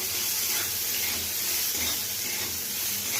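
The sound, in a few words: cauliflower stalks frying in mustard oil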